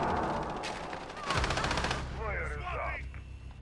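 Rapid automatic gunfire from a Rainbow Six Siege match, loud bursts of shots with a dense rattling stretch in the middle, followed by chirpy electronic game effects near the end.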